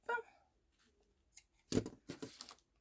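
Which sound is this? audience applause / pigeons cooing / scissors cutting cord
scissors cutting cord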